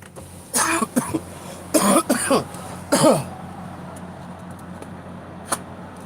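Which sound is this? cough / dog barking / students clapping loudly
cough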